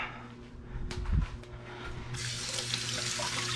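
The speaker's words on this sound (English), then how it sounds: "Just gotta wash these dishes." Kitchen tap running into a sink while dishes are washed during breakfast potato cooking, a steady close hiss of water that grows fuller partway through, with a few clatters of handled dishes.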